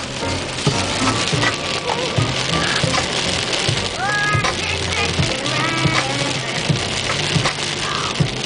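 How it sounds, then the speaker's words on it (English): Steady rain falls on surfaces outdoors on a July day, a dense continuous patter close by with scattered louder drips, while a few sheep bleat faintly in the background. "I think the rain's letting up."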